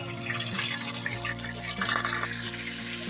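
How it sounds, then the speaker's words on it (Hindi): Chicken fries in a pan with cinnamon, black pepper and cloves for a curry, giving off a steady, close hiss and sizzle with bubbling crackles that swell and fade. "चिकन को फ्राई करेंगे।"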